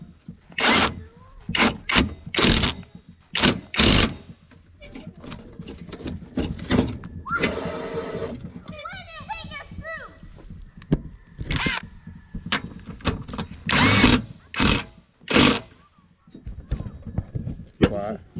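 Power tool tightening the blade bolts on a Craftsman riding mower after a spindle and blade replacement, heard as several short sharp bursts close by, with someone talking between them.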